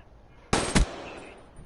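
Gunfire in the video game Black Ops 3: a sharp burst of two quick close shots that ring out briefly, loud against a quiet background.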